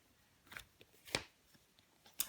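Tarot cards are laid out and handled on a table, giving a few soft, quick slaps and sliding card snaps, close by and faint, with no talking.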